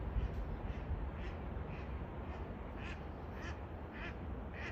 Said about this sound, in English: There's some ducks coming in for a landing.